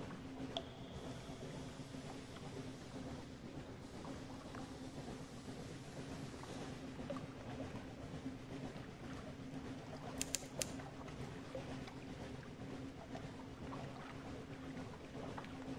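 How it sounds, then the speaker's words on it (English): A ship engine drones steadily in the video game Sunless Sea, a low constant hum under faint wind and water noise, with a few brief ticks near the end and no talk. "And we're going to cut the engine"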